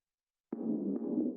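Distorted hard techno kick drum, low-passed so it booms dark and muffled; a single heavy sustained hit with a second attack partway through, loud and alone.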